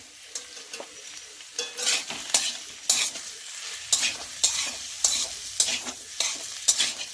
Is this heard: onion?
yes